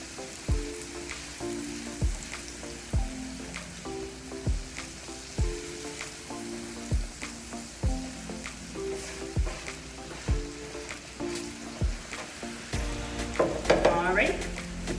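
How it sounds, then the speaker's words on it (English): Brown sugar and cinnamon being mixed for an apple pound cake: a steady, rhythmic run of stirring strokes about every second, over a constant hissing background that swells near the end. "once you start mixing that in, you should now get that brown sugar and that cinnamon smell in the air"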